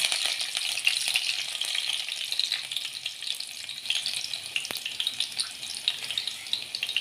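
Garlic frying in oil for Kathiyawadi-style palak shaak, a steady close sizzle with crackling bursts throughout, no voices.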